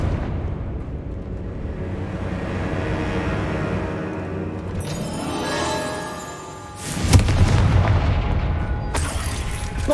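Bombarda and Confringo spells explode in Hogwarts Legacy, heavy rumbling blasts with a rising roar, then a sharp crack and a second burst, loud and close.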